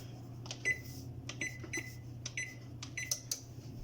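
Oven control buttons are pressed to set a 425-degree preheat, producing a string of about eight short, clear electronic beeps at an uneven tapping pace over a low hum.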